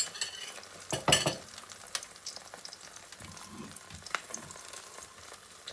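Eggs fry in a pan with a soft, steady sizzle, a sharp clatter of a utensil near the start, and lighter scraping and stirring taps after it, all close and quiet.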